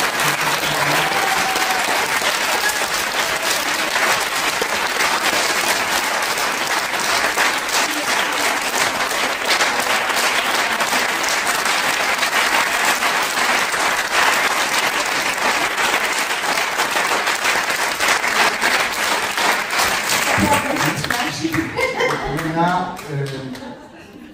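A seated audience in the French National Assembly claps in sustained, loud applause for over twenty seconds, fading at the end as a voice starts to speak.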